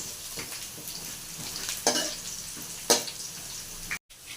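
Peanuts frying in a pan, a steady soft sizzle with a spoon stirring and scraping now and then, two sharper scrapes standing out, close and moderately quiet, ending in a brief cut to silence.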